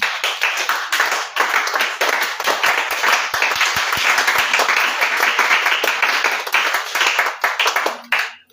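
A church congregation at a French-language worship service applauds, with loud sustained rapid clapping filling the space for several seconds before fading at the end.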